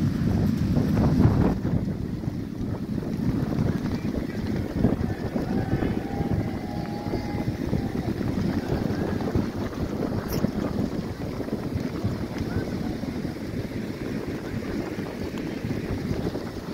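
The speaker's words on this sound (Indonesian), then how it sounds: "anginnya tinggi, banter ya" Strong wind buffets the microphone at Parangtritis beach in Yogyakarta, a steady roaring rumble lasting throughout with surf faintly beneath; no voices are heard.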